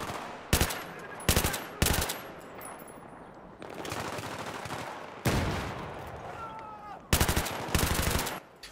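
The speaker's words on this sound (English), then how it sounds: "Just this fucking one asshole just keeps shooting at me, man." Automatic weapon fire in the video game Battlefield 3 during a co-op mission, loud repeated bursts of gunshots, some rapid volleys and single cracks, separated by short gaps of ambient battle noise.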